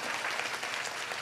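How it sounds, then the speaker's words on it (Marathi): An audience claps loudly at a Marathi Warkari kirtan, a dense, steady burst of applause from a crowd with no talk over it. "टाळी वाजवा एकदा जोरदार"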